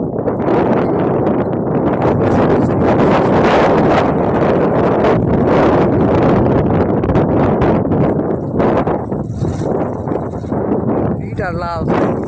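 Strong wind in open village countryside buffets the microphone with loud, continuous rumbling gusts, joined near the end by some fainter rustling and higher sounds.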